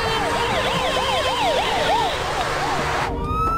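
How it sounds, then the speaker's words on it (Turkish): An ambulance siren wails loud and close in a Turkish TV drama scene, its rapid rising-falling sweeps repeating steadily before cutting to a new, higher tone near the end. "Acele ambulans istiyorum."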